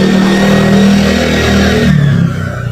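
Motorized tricycles pass along Lirio Street, a narrow neighborhood road, their engines droning loudly and close with a steady revving rumble that eases off toward the end.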